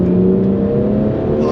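A BMW M240i engine drones steadily under acceleration, a loud close interior hum with strong low tones that holds throughout the short stretch.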